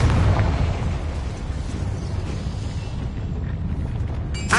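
A Confringo blasting spell goes off in a video game as one loud, rumbling explosion that roars continuously and then tails off, ending in a brief crackle.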